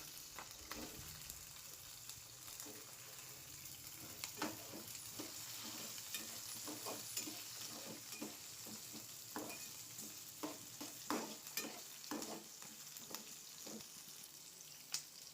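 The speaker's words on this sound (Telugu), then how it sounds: "ఉల్లిపాయ ముక్కలు వేసుకుందామండి." Chopped onion pieces sizzle in a hot pan for curry, with a steady hiss and repeated scraping clicks of stirring throughout; no one speaks.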